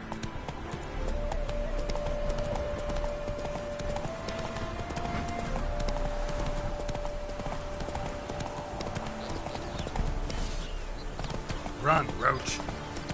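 Roach the horse galloping in a PS4 game, with a steady, fast clip-clop of hooves throughout and a brief whinny near the end; a person talks over it.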